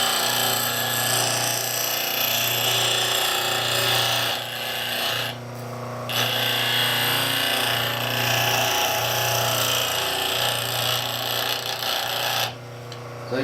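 A wooden-bodied spokeshave blade is honed with steady, close rasping strokes that repeat in a rhythmic back-and-forth, with brief pauses between passes.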